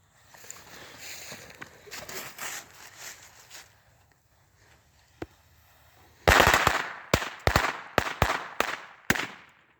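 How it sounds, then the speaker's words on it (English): Firecrackers go off for New Year's in a rapid string of about eight sharp, loud bangs after a quieter stretch of background noise. "Me and my brother are gonna do some firecrackers for New Year's."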